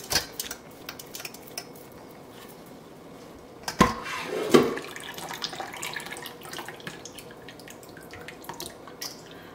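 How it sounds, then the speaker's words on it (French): Bissap hibiscus leaves are rinsed in water, giving soft, faint sloshing and dripping with a couple of louder splashes near the middle. "J'ai rajouté encore de l'eau pour récupérer et bien laver tout ça."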